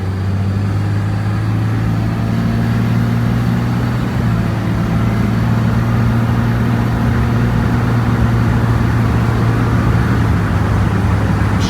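A 2006 Dodge RAM 3500 with a Cummins diesel engine drives along with a steady, low engine drone and road noise that holds constant throughout, heard from inside the cab with no talking.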